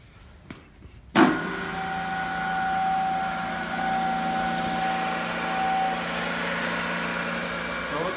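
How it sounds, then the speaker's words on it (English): Travaini oil-lubricated rotary vane vacuum pump with tank, 1.5 HP on 230-volt three-phase power, switches on with a sudden thump and settles into a steady, loud mechanical drone with a whining tone. "Here we have a Ritzel vacuum pump with a tank. We're gonna power it on here."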